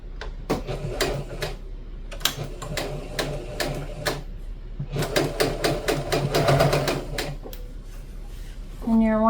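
Home sewing machine stitching a toddler dress, bursts of rapid mechanical needle clatter starting and stopping in short runs, fairly close, with faint speech in between.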